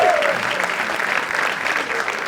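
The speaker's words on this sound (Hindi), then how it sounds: "एक बार जोरदार तालियां for him यार।" Steady clapping from an audience fills the whole stretch, dense and sustained at an even loudness, with no pause in the applause.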